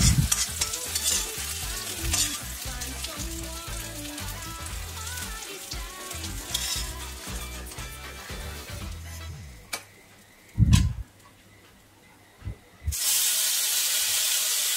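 Green chillies and mixed vegetables fry on a hot tawa, a steady close sizzle with stirring and scraping, a few sharp knocks near the end, then a loud hiss of fresh frying.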